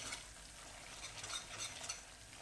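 Masala for a hotel-style veg kurma is stirred and roasted with yogurt in a pan, giving a steady, faint sizzle with soft scraping from the stirring. No one speaks.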